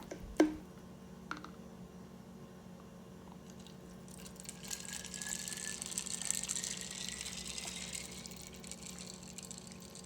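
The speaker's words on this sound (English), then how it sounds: "Then we're adding water." Water runs into a small plastic spray bottle holding a few tablespoons of Downy Unstoppables scent beads, a soft steady pour that builds and brightens over several seconds after a single click, close and with no talk.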